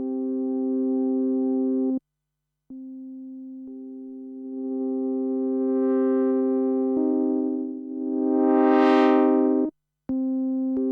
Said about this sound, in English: distortion on that one